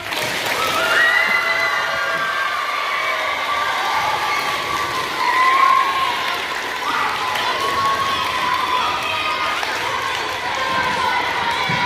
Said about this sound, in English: let's have another big round of applause